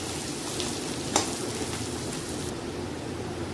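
Chopped onions frying in hot oil in a pan for a Bengali rohu fish curry, giving a steady, close sizzle with a brief sharper crackle, alone without talk.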